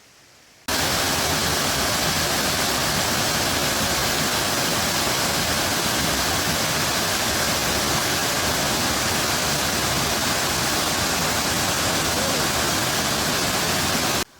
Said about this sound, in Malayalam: നമ്മുടെ കോന്നിയിലെ മനോഹരമായ മണ്ണീറ തലമാനത്തെ വെള്ളച്ചാട്ടമൊക്കെ നിങ്ങൾക്ക് അപ്രതീക്ഷിതമായി തരാൻ കഴിഞ്ഞതാണ്